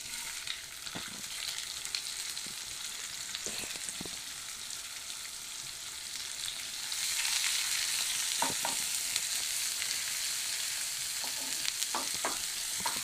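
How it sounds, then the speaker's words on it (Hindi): Onion and cumin fry in a pan, a soft steady sizzle with intermittent stirring clicks and scrapes, growing slightly louder and hissier partway through. "तो देख सकते हैं आप कि हमारा जो प्याज है वो अच्छी तरह से भुना गया है।"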